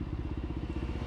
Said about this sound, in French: petit coup d'accélérateur qui sert absolument à rien.